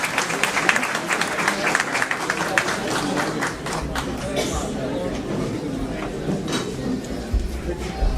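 Audience at a naat contest clapping during a tribute presentation, a dense, sustained patter of many hands mixed with crowd chatter and a voice speaking over it, fairly loud and steady before easing slightly.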